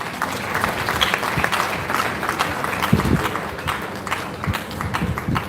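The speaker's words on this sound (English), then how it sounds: "Please give a round of applause to Chisom." Audience applause for a poet at a sixtieth birthday symposium, a steady wash of many hands clapping at close range with a few louder individual claps, no talk over it.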